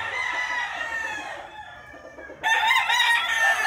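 Roosters crowing in a farmyard, one long drawn-out crow fading before a second, louder crow bursts in close by, alone without talk.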